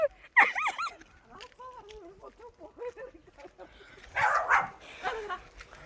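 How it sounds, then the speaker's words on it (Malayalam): A dog yips and barks a few times up close, with whimpering tones and people talking nearby. "ഇവിടെ ഒരു പട്ടിയൊക്കെ ഉണ്ട്."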